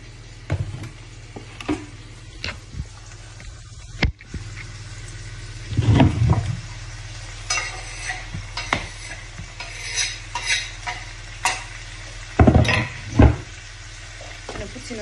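Onion and shrimp cooking in a pan for a shrimp cream sauce, with a low steady sizzle under repeated stirring and scraping clatter from a utensil on the pan, close and fairly quiet throughout.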